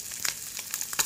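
Eggs fry sunny side up in a pan with a soft, faint sizzle broken by small crackling pops over about a second, close by and quiet.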